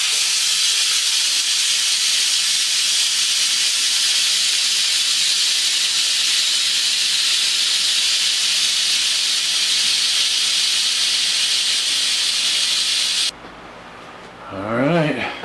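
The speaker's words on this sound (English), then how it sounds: "let's get that steam out of there" Steam vents from a Crock-Pot Express pressure cooker cooking hard-boiled eggs, a loud continuous rushing hiss lasting about thirteen seconds before it stops abruptly, followed by brief talking.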